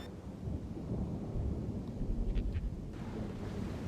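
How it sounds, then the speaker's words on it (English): Thunderstorm in the video game Splinter Cell: Chaos Theory, a steady low rolling rumble mixed with windy, rain-like hiss and no voices. "Thunderstorms make me nervous."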